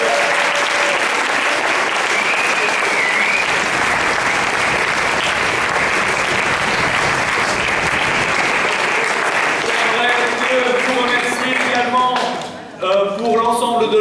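An audience applauds the jury at a slam poetry competition final, loud sustained clapping throughout, with a few voices emerging near the end as the applause fades.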